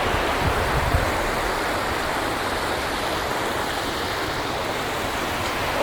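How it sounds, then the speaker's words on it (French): A waterfall in the Cirque de l'Esquin mountain cirque gives a constant, dense rushing roar of falling water, heard close and steady from start to finish without any voices. "Et là il y a la cascade."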